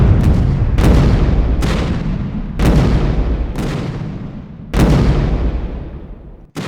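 Cannons fire one after another in a Fort Sumter battle re-enactment: five heavy booming blasts at roughly regular intervals, each loud and close with a long rumbling decay, no voices.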